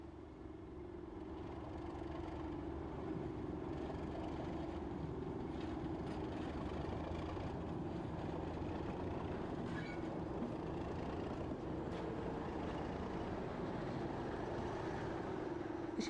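A Class 37 diesel locomotive engine rumbles steadily at a moderate distance, a continuous growl that holds throughout with no voices.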